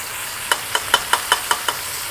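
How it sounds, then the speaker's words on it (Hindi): Beef and ginger-garlic paste fry in a pot, a steady sizzle punctuated by seven evenly spaced knocks as a utensil stirs against the pot. "अब मैं इसको थोड़ी देर भूनूंगी।"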